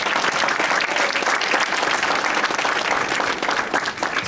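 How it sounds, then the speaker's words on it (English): A community crowd gives the Salesian Sisters a round of applause, a dense, loud, steady wash of many hands clapping close by, dipping slightly near the end. "Let's give them a nice round of applause, okay?"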